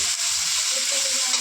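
Chopped onion and tomato sizzle and fry in a pan as they are stirred, a steady close hiss with soft scraping underneath and no talking.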